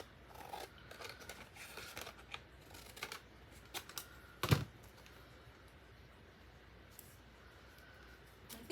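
Scissors snip freehand through paper in a quiet room, a series of soft irregular cuts and rustles with one sharper louder snip midway, close and alone.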